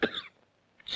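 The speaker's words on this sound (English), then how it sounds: "Coughing spreads them farther." A single sharp cough in a vintage Disney cartoon about colds and viruses, a short burst up front followed by a brief quiet gap and a faint onset at the end.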